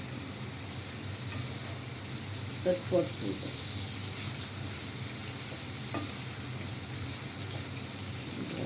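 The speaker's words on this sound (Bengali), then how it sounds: "টমেটোগুলো একটু ভালো করে ভাজা" Tomatoes fry in a home kitchen pan, giving a steady, even sizzle and hiss for the whole stretch, with a few soft clinks of a spoon stirring partway through.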